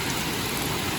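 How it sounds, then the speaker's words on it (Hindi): Heavy rain falling outside, a dense, continuous hiss of drops hitting surfaces, loud and unbroken, with no talking. "बारिश हो रही है बाहर बहुत ज़्यादा,"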